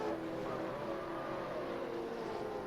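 SRA Supercars race cars, a Camaro among them, howl past together at full throttle, a loud, steady, high-pitched engine scream with no talk over it.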